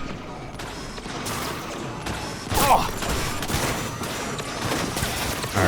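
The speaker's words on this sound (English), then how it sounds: "Who is shooting me? Or what is shooting me?" Rapid bursts of gunfire rattle through a Cyberpunk 2077 firefight, dense repeated shots with a sharper crack midway, steady and fairly loud throughout.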